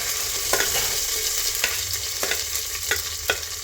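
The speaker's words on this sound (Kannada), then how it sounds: "ಈರುಳ್ಳಿ ಮೆಣಸಿನ್ಕಾಯಿ ಸ್ವಲ್ಪ ಫ್ರೈ ಆಗಲಿ." Chillies and onions frying in a pan with garlic for tomato bath, a loud continuous sizzle broken by regular spatula scrapes about every half second, with no talking.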